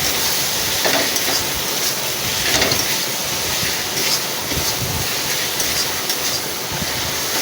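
Spices with Kashmiri red chilli sizzling and being stirred in a hot pan, a steady frying crackle with scraping strokes, close and continuous, no talking.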